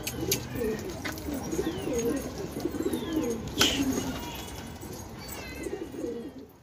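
White pigeons in Delhi cooing, repeated soft throaty coos overlapping over steady background noise, moderately near with a brief sharp sound midway.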